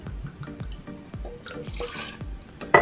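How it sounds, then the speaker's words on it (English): Black rum poured for a Star Wars-themed cocktail, heard as a run of close, regular glugs and drips from the bottle, with a brighter splash and clink at the end. "So we're starting off with 2 ounces of black rum"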